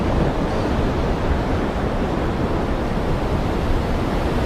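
A rough, storm-tossed sea surges around a small boat, a loud, unbroken roar of waves and wind noise filling the whole stretch, with no talking.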